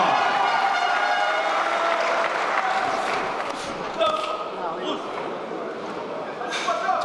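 An audience at an MMA event applauds steadily, a dense wash of clapping that thins slightly partway through, with a voice talking over it and a few thuds.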